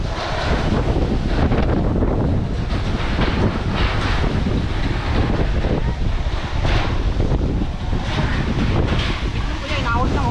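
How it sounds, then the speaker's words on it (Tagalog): Strong wind buffets the microphone at a mountain spot popular with bikers, a loud continuous low roar with gusty surges, while voices talk faintly beneath it. "Isang hangin."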